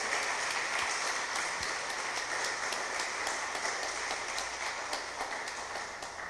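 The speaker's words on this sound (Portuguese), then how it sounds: "E só quem recebe, aplauda o Santo de Israel." Church congregation at a workers' service applauding, a steady continuous patter of many hands clapping that stays at an even, moderate level throughout.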